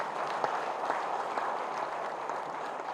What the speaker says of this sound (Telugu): ఇది మీ అందరికీ నాతో సహా గట్టిగా చప్పట్లు కొట్టుకుందాం ఆ కార్యక్రమాన్ని